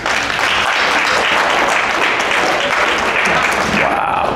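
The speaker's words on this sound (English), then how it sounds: "Clap if you've been married over 50 years." An audience at a comedy show breaks into sustained, fairly loud applause as long-married couples clap, a dense patter of many hands with some voices mixed in.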